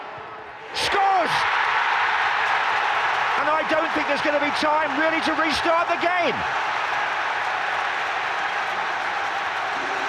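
Loud stadium crowd roaring after West Ham's late penalty goal by Noble against Liverpool, a sustained wall of cheering that swells and holds throughout, with a commentator talking over it.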